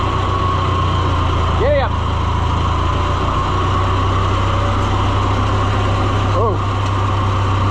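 An Oliver 1250-A tractor engine runs on choke, a steady low idling rumble close by, with two brief whistling tones rising over it and short spoken exclamations.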